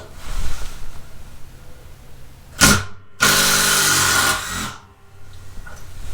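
A Makita 18V sub-compact brushless cordless drill gives a short whir, pauses, then runs for about a second and a half, its pitch rising as it speeds up, loud and close with no talking.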